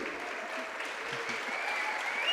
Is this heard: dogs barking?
no